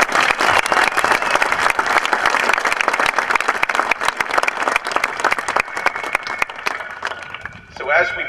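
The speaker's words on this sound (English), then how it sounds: "I just want to give one round of applause for our core staff who really helped this weekend." Dense, steady applause from a crowd honouring the core staff at the end of a weekend FBU Top Gun 2010 event, sustained clapping throughout with a brief shift near the end, mixed with some voices in the crowd.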